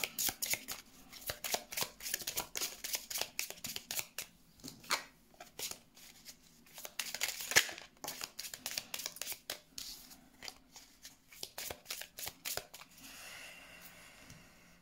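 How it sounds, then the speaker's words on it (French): A new deck of slippery playing cards is shuffled over and over, making rapid crisp riffling bursts separated by short pauses, close and fairly quiet with no talking. "J'ai pris le nouveau jeu et je peux vous assurer que les cartes, elles glissent."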